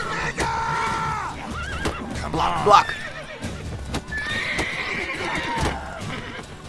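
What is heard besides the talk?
horses neighing in video game The Witcher 3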